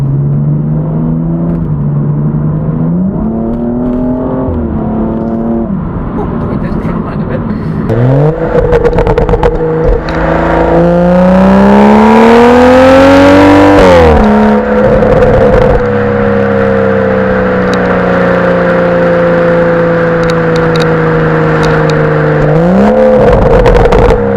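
A BMW M235i straight-six engine revs and accelerates hard, pitch climbing through several gear changes, loud and close with a smooth, continuous drone.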